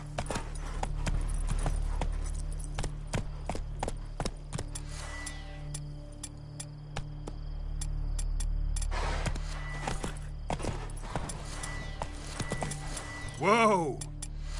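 Horse Roach galloping in The Witcher 3, with rapid rhythmic hoofbeats close by through most of the stretch and a brief whinny near the end, under occasional talk.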